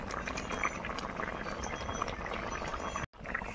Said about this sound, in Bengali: ঝোলটা খুব সুন্দর ফুটে গিয়েছে